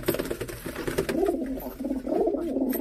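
Soft, low cooing from a pet brown pigeon, a few close rolling coos in short phrases with brief pauses between them.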